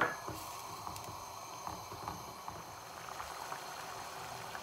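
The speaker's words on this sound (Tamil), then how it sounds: "தேங்காய் பால் விட்டுட்டு தயிரையும் அதோட ஆட் பண்ணிவிட்டு கொஞ்சம் நேரம் கொதிக்க விடுவோம்." A paneer curry of coconut milk and yogurt simmers at a gentle boil, soft steady bubbling and faint pops heard up close without any talking.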